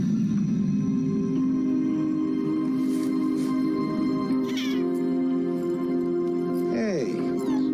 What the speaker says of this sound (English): Hey, cute cat.